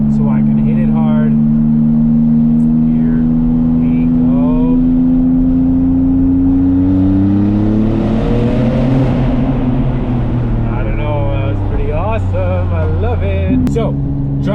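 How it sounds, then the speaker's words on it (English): A McLaren sports car engine drones and slowly rises in pitch, echoing inside a tunnel, while a person talks throughout. "Let's see if we can hear what this car sounds like going through the tunnel."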